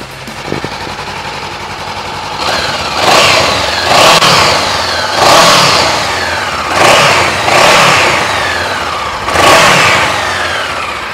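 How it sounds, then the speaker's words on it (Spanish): Honda CB500F naked motorcycle on its original exhaust, close and loud, starting at idle and then revved hard in about five swelling bursts, each rising and falling back between throttle blips, with no talking. "es una motocicleta que suena muy, muy bacano, y eso que es con el exhausto original"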